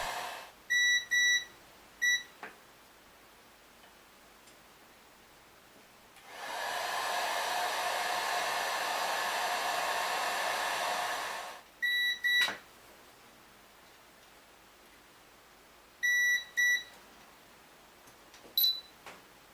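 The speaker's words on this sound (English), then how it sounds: "let's wrap a damp rag to insulate while using the heat gun to shrink the wire" Heat gun shrinking insulation onto wire during a Hot Tools HT710 flat iron repair, blowing a steady whooshing roar for about five seconds, with short electronic beeps before and after.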